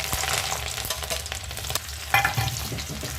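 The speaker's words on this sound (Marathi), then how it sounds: "आता लसूण टाकते." Garlic dropped into hot oil on a fast gas flame sizzles and fries steadily, with stirring scrapes and a brief louder burst of sizzle partway through, close and without talk.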